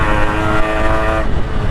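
An RX100 motorcycle horn sounds a loud, steady, buzzy tone for about a second while the bike rides at speed, then cuts off, leaving rushing wind and engine noise.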